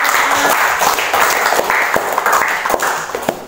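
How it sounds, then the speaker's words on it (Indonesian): A small classroom group claps together in brisk, uneven applause at a religious lesson, a short burst of close hand claps with no speech over it. "Kita berikan aplaus."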